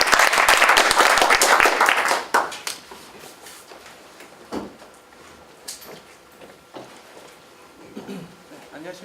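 At a seminar on earphone tuning, an audience gives the speaker a loud burst of applause for about two seconds before it cuts off. Quieter room sounds and a few scattered knocks and shuffles follow.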